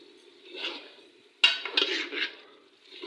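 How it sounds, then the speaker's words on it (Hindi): Lentils (dal mash) tipped into frying masala in a pan, heard as a sudden rattling clatter followed by a few scraping stirs and light clinks, fairly close, with a soft sizzle underneath. "ये देखिए दाल मैंने इसके अंदर डाल दी है।"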